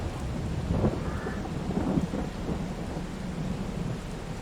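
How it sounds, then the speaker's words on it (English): A proper thunderstorm outdoors near a tractor with rear steer: steady rain hissing on surfaces with low rolling thunder rumbling underneath, continuous and enveloping, with no voices. "Proper thunderstorm on the go."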